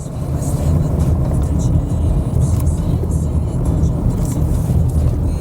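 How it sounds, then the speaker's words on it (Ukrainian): A 2023 Subaru Outback with a CVT drives and accelerates, giving a steady, smooth road rumble and low engine hum that holds an even loudness throughout, with no sharp revving. "варіатор дуже м'який, дуже чітко розганяється"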